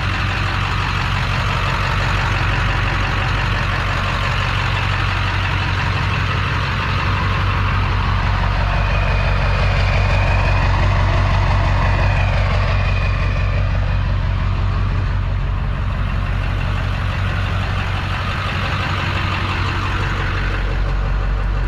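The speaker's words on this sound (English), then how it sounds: "I just wanna give you guys a little walk around to hear how she sounds." A Ford Super Duty 7.3 diesel truck engine idling nearby, a steady low rumbling drone that holds evenly throughout with no voices.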